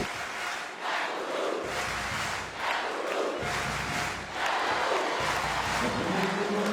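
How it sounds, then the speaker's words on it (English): An arena crowd at a women's Olympic qualifying basketball game between France and New Zealand chants a player's name in rhythmic, repeated shouts, a large mass of voices rising and falling in waves. "The whole crowd just shouting Yakubu's name."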